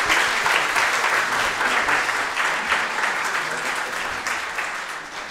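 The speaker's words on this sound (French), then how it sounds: "merci François, je pense qu'on peut l'applaudir." A church congregation applauds during a Sunday Mass, a full, sustained wash of clapping from many people that gradually tapers toward the end.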